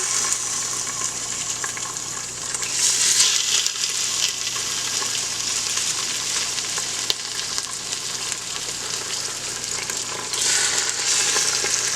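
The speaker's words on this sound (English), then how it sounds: "I'm going to go ahead and throw our little thin pork chops in" Thin pork chops sizzle in a hot pan, a continuous, fairly loud frying hiss that swells briefly a few times, with no voices.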